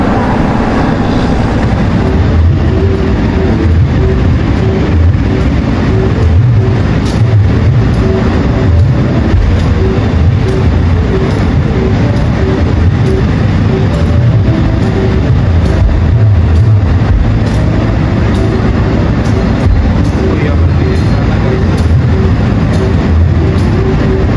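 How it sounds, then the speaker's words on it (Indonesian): A commuter train rumbling into Rejotangan station, a loud steady roar of wheels and engine with rhythmic clacking throughout. "Wah, udah masuk keretanya."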